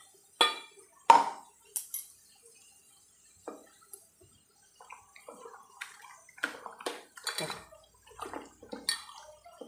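Sporadic wet squelches and light clicks close by as raw chicken is worked together with a paste of green chili, onion, ginger and garlic by hand, soft and intermittent in a quiet kitchen.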